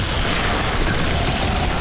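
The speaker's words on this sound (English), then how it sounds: "Big explosions." Big explosions in the PC game Diablo III: a dense, loud, continuous rumble of booms and bursts filling the whole stretch, with no voices.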